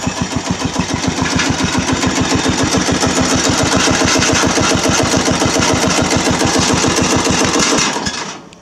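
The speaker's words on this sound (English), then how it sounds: "This one idles really good, and this one does not want to idle." A small Husqvarna engine idles close by with a fast, steady chugging putter, loud and even, before cutting out at the end.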